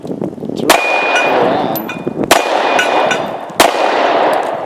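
A Smith & Wesson M&P Shield pistol fires three sharp, loud shots, each followed by a bright metallic clang as the bullet strikes a steel target, with steady outdoor background noise between them and no talking.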